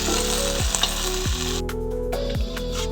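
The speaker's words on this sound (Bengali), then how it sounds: "কড়াই তেল দিলাম, ভেন্ডিগুলোকে হালকা করে ভেজে নেব" Okra lightly frying in oil in a wok, making a loud, dense, continuous sizzle close up, with a few descending tonal sweeps layered over it and no speech.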